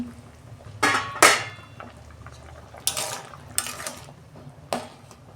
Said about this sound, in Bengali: এই যে বন্ধুরা, ঢাকনাটা আমি খুলছি।